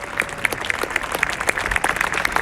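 An outdoor airshow crowd at Old Warden claps for Red Arrows pilots, scattered but lively applause with distinct individual claps standing out, close and fairly loud, no voices.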